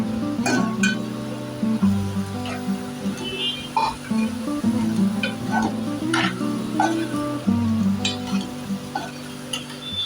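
Chickpeas being stirred in a metal pot for chole, a steady series of spoon clinks and scrapes against the pot over a constant low hum, close and moderately loud, no talking.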